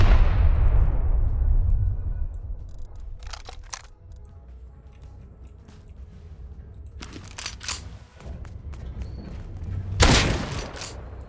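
In the video game Rust, a heavy boom at the start decays away, followed by scattered sharp bursts and cracks, with another loud blast near the end.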